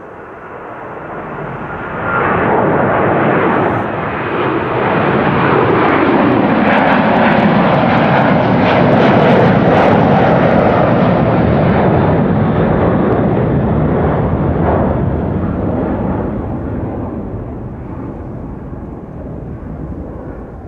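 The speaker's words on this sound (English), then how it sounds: "Relatively young A330, 9 years old." A nine-year-old Airbus A330 airliner roars past at Amsterdam Schiphol, its engine noise swelling from faint to a loud, sustained rumble before slowly fading away.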